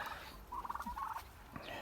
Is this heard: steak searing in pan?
no